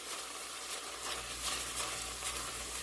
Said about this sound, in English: a teaspoon and a half of tomato paste. And we are going to just mix that in.